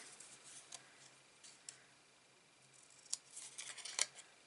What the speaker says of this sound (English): So I'm going to fussy cut this out quickly.